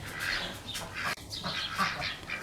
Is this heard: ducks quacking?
yes